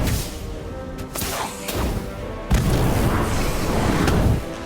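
An Incendio fire spell cast in Harry Potter: Magic Awakened lands as a whooshing burst and deep boom, then a loud roaring crackle of flames that holds steady to the end, with no voices.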